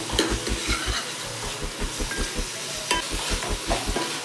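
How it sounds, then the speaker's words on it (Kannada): Vegetables fry and sizzle in hot oil for a sambar of sprouted green gram and chickpeas, with a steady rhythm of spoon scrapes and stirring knocks against the pan over the constant crackle, close and alone. "ಎಣ್ಣೆಯಲ್ಲಿ ತರಕಾರಿನ ಫ್ರೈ ಮಾಡ್ಕೋಬೇಕು"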